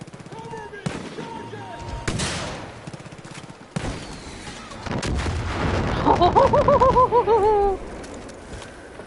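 Cluster rockets explode in a video game: several sharp, loud blasts land a second or two apart, followed by a sustained crackling rumble with a warbling, wavering tone riding over it.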